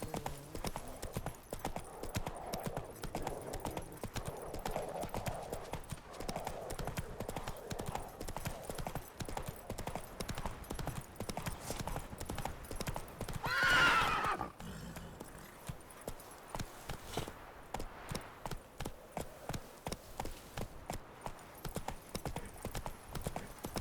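A horse gallops in The Witcher 3, its hooves making a steady, rapid clip-clop close by throughout, with a brief whinny-like burst near the middle.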